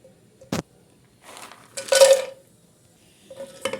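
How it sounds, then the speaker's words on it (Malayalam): Cashews being fried in ghee in a pan for a coconut pongu payasam, heard as a few short metallic clinks and bursts of stirring and light sizzle, close and fairly loud, with no voices. "അതിലേക്ക് നമുക്ക് നെയ്യ് ഒഴിച്ച് കൊടുക്കാം കേട്ടോ. കശുവണ്ടി ഒന്ന് വറുത്തെടുക്കണം."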